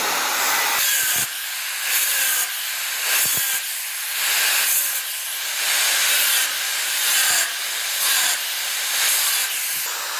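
Angle grinder cutting slots in a steel pipe with a small cutting disc, a loud, steady high-pitched hiss and whine that pulses as the disc bites, with brief dips between passes and no talk over it.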